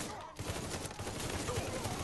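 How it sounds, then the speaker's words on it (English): Machine gun fire in Mafia 3, a steady, dense rattle of automatic shots filling the whole stretch at moderate loudness, with a voice faintly present underneath. "These machine guns are inaccurate as fuck."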